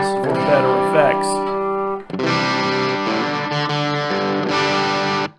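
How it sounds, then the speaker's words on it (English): An electric guitar rings out through a distortion pedal with the distortion turned all the way down, strummed chords sustaining with a gritty, fuzzy edge, close and loud, a short break between phrases. "So that's the distortion all the way turned down."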